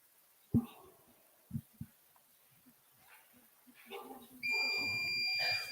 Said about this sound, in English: did the timer go off? The timer went off?